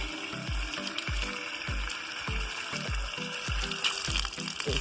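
Mud-covered Pahadi hill radishes being washed in water, with steady watery noise throughout and a regular pattern of low thumping splashes; no talking.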